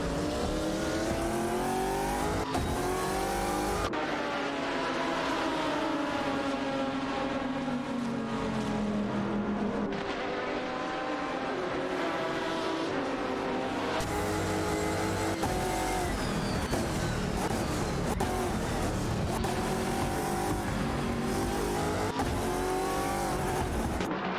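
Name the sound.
race cars in a video game race, Chrysler Viper GTSR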